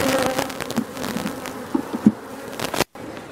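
Bees buzz steadily around a hive frame of bees and brood, a dense close-up drone with several louder passes near the microphone before it briefly cuts out.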